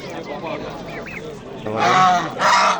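Loud goose honks burst out near the end in two harsh, blaring calls, following a stretch of quieter voices and background noise at a poultry market in Andijan.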